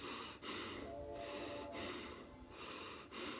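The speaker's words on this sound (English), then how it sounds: "shallow breathing explains the person who's breathing and not utilizing their full range of breath" Quiet shallow breathing with short, quick inhales and exhales through the nose, several soft breaths in a row, close to the microphone and with no talking.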